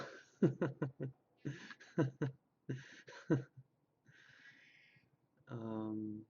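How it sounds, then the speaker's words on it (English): A cat meowing near a person talking, with a few short meows mixed among speech bursts and a longer, drawn-out meow at the end, quiet and close. "Have some respect. At least make a good, pure tone meow."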